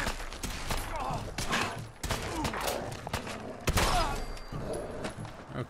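Double-barrel shotgun blasts aimed at a hellhound in Fallout 4, a run of sharp loud reports with thuds and crashing clatter packed close together over busy game noise.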